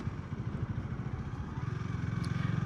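Honda Rebel 250 motorcycle engine under way while riding, a steady low rumble with a throbbing pulse that grows slightly firmer toward the end, alone without talk.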